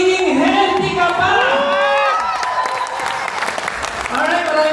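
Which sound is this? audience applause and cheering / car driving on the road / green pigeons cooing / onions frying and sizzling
audience applause and cheering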